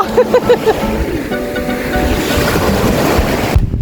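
Ocean waves at Hat Sai Noi beach, Thailand, rush and surge steadily at high tide with wind noise buffeting the microphone, and a brief melodic tone near the start.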